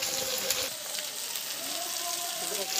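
Carrots go into a pan of chicken stew with turmeric, a steady broad sizzle and bubbling frying hiss running throughout, close up, with a voice speaking over it.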